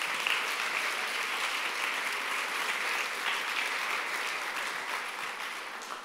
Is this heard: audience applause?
yes